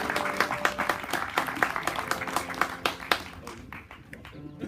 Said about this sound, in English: Give them a little bit of applause, ladies and gentlemen.